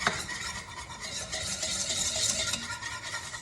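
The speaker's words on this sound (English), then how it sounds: "Stir that up." Butter and flour are stirred into a roux in a pot, a close, continuous scraping and swishing with a soft sizzle, with no talking.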